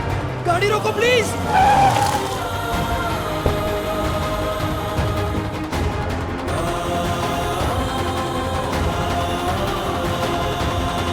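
A car skids in a dramatic accident scene, tires squealing loudly for about two seconds at the start, then a sustained engine-and-road rumble with dramatic music and voices continuing underneath.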